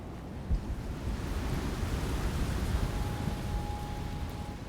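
Storm wind in Shadow of the Tomb Raider makes a steady, dense rushing roar that holds throughout with no speech.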